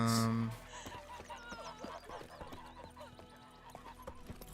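Roach, the horse in the video game The Witcher 3, gives a loud whinny at the start. It is followed by a steady run of close clip-clopping hoofbeats.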